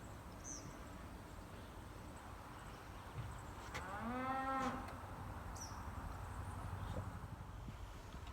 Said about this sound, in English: And there's cows down there, so that's pretty cool.